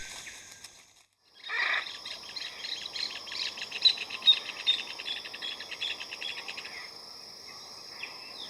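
Hyacinth macaws call at dawn in the Pantanal wetlands and forest, a burst of harsh squawks over a steady chorus of chirping insects and birds, moderately distant.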